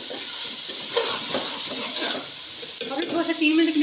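Fried moongre going into potatoes cooking in a pan, with a steady hissing sizzle of oil, soft stirring scrapes and a few light clinks near the end.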